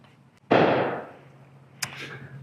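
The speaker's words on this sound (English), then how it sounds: "there's fireworks going off in the background" A single sharp firework burst rings out with a long fading tail, followed by a fainter crackling pop about a second later.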